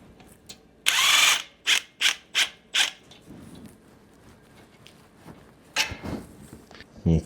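Wrench or ratchet loosening the 21 mm caliper bracket bolts on a Dana 80 hub of an M715: a long initial burst, then a run of short, evenly spaced clicking bursts and a few later ones, close and clear with no talk.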